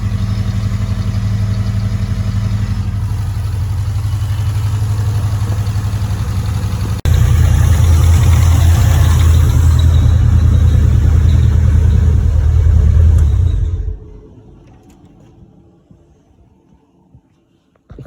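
Mitsubishi Evolution 4 engine idling after a sump removal and timing belt change, a loud steady close-up drone that jumps slightly louder midway, then cuts off and leaves near silence.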